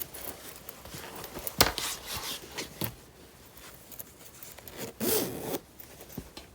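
A zipper on a small handmade quilted Boston bag is worked in quiet bursts, a few brief rasping pulls separated by soft handling rustles, close by with no voices.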